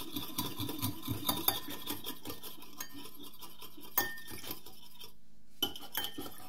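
A utensil clinks and scrapes against a bowl while egg yolk and milk are stirred together, a quick rhythmic run of small taps at first, then sparser knocks, close and fairly quiet.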